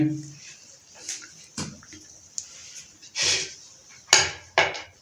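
Rice pulao with potatoes being served onto a dish, several scattered clinks and scrapes of a spoon against a pot and plate, close, separated by quiet gaps.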